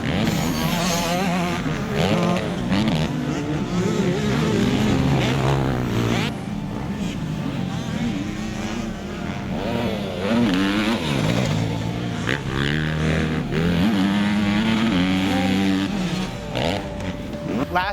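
A 2013 Yamaha YZ250F motocross bike rides a track, its four-stroke engine revving up and down through repeated accelerations and gear changes, loud and close throughout.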